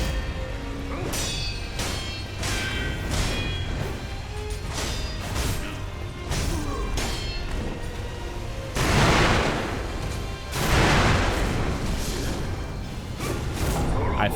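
Firecrackers go off in the game Sekiro as two loud, crackling bursts, each lasting a second or more, with game combat sounds around them and someone talking over much of it.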